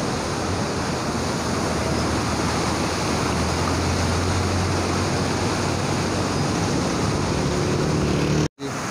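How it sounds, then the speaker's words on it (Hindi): A stream rushes steadily through Kalam valley in Swat, a dense, continuous broadband wash of flowing water close by, with no talk and a brief dropout near the end. "यहाँ पे पानी है"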